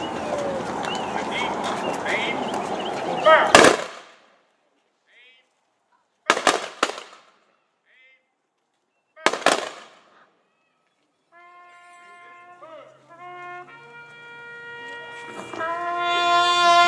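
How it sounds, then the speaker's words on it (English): A rifle volley salute fires at an outdoor memorial monument dedication at a high school, three sharp, loud shots a few seconds apart, each echoing briefly before quiet, preceded by crowd noise and followed by a bugle beginning taps. "And now the Tejanos in action will fire a volley and salute"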